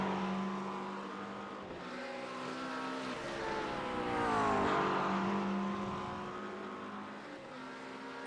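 Simulated GT3 race cars, a Porsche and a McLaren, battling for the lead at Le Mans, with steady engine drones rising and falling in pitch as gears shift, loud and continuous, two engines overlapping up close.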